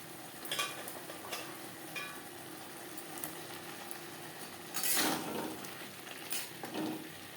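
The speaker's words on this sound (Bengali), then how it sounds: "চিকেনের সাথে গাজর ক্যাপসিকাম দু তিন মিনিট নাড়াচাড়া করে নেব" Chicken, carrot and capsicum stir-fried for street-style chicken chow mein give a steady close sizzle, broken by a few scraping spatula strokes and a louder burst of crackle near the end.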